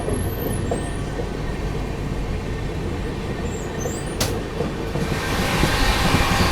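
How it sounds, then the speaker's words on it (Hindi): A train rumbles steadily along the tracks passing through a station without stopping, with a constant roar and rattle, growing slightly louder toward the end, with a brief sharp click midway. "फ़िलहाल अभी ट्रेन अपनी स्किप कर रही है"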